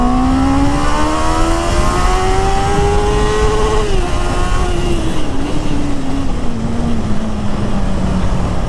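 A 2021 Honda CB650R motorcycle accelerating hard at full power, a loud, steady engine note rising in pitch through the gears with a brief dip at a shift, heard close and alone.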